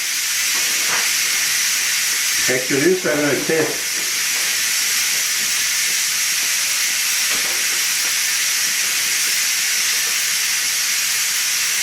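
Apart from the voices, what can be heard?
Instant Pot pressure cooker releasing steam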